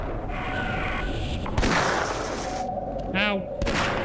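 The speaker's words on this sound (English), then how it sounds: "But I do have a revolver." Revolver fire in the video game Half-Life: two sharp, loud shots about two seconds apart over busy in-game noise, with a brief voice-like sound between them.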